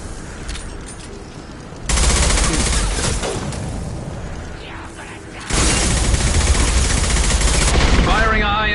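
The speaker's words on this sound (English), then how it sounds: "Firing a high-impact shot." Loud bursts of rapid automatic gunfire from Mass Effect Legendary Edition 2 crash in twice, close and heavy with booming impacts, separated by quieter stretches of rumbling combat noise.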